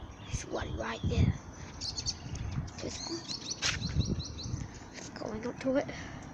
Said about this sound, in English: There's birds just flying over there